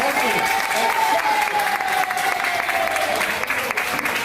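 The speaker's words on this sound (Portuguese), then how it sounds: "Vão dar um aplauso de amor, com roupa e força." Audience applause fills the room at a live broadcast event, a dense steady wash of clapping from start to finish with a held tone and some voices faintly underneath.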